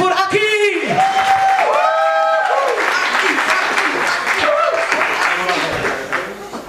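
Audience applause at a neighbourhood event in Rotterdam, lively clapping with whoops and vocal cheers at the start, settling into steady clapping.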